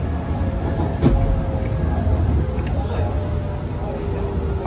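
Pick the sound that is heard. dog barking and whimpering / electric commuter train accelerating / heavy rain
electric commuter train accelerating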